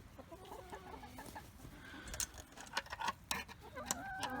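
A dozen laying hens cluck softly inside their roosting coop, a faint, close, irregular chatter of short calls over a quiet background.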